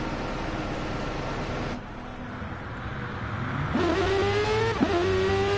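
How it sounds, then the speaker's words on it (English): Lexus hybrid race car in Gran Turismo 7 screaming as it accelerates out of the pit lane, a loud rising engine whine climbing through gears over a steady roar of other cars, no talking. "Listen to that Lexus scream on exit of the pits."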